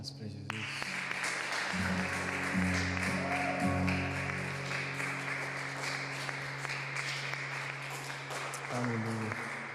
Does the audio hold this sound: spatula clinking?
no